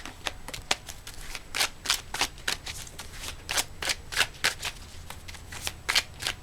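A tarot card deck being shuffled at close range, in quick repeated riffling bursts of crisp card flicks with brief gaps between them, quiet and unaccompanied by talk.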